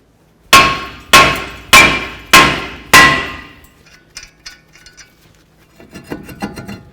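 A hammer strikes the brake rotor on a 2006–2012 Ford Fusion front hub five times in a steady rhythm, each blow a loud close metallic clang with ringing decay, followed by faint scattered clicks and small knocks.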